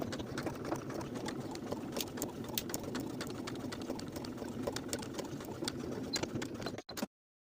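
A sewing machine stitches a wool jacket pocket, running in a steady close whirring hum with rapid ticking needle strokes before stopping abruptly.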